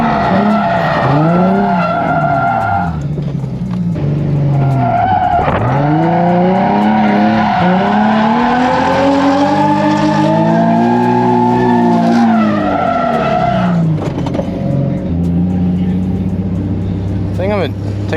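A car on TE wheels slides and skids, loud tire squeals rising and falling in long sweeping waves over a revving engine, sustained and close.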